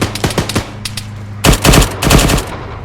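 Gunshots from a military-style training raid exercise: several sharp reports early, then two dense bursts of rapid fire, loud and close, with no talk.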